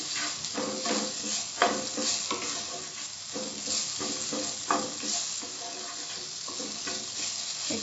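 Chopped green chillies with ginger sizzle loudly in a pan for dal tadka, with a strong steady crackle broken by repeated scraping strokes of a spoon stirring close by.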